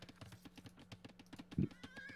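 A horse neighs briefly in a real-time strategy game, one short loud burst standing out over a steady rhythmic background of game sounds and clicks.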